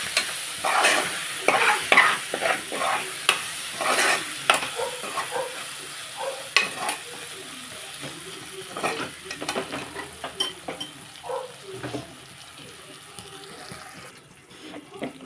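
A spoon stirs a brinjal (eggplant) fry with coriander in a pan, giving scattered scraping and light sizzling strokes, with some running water and kitchen clatter nearby, fading quieter toward the end.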